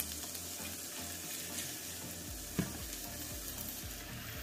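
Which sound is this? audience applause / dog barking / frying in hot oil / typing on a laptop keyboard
frying in hot oil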